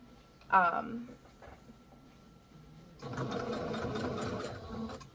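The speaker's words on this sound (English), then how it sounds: "I'm just going to straight stitch across it for right now." A sewing machine runs a straight stitch across fabric prepared for shirring, starting with a brief mechanical clatter, then a steady, fairly close whirring run of rapid stitching for about two seconds. Someone talks over it.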